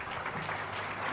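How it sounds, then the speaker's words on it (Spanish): Audience applause at a memory, truth and justice conference, a steady dense patter of clapping across the whole moment with no break. "Un fuerte aplauso para ellos."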